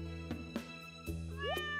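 Cat meows from Stardew Valley sound twice, short and fairly close, over steady game music, with a rising meow toward the end.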